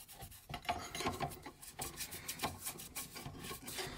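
Light scrubbing of a Samson block plane blade, repeated quick close rasping strokes in an uneven rhythm, moderately quiet with no voices.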